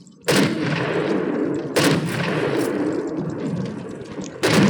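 Three loud, sharp video game sniper gunshots ring out at irregular intervals, each followed by a long, booming echoing tail with no voices present.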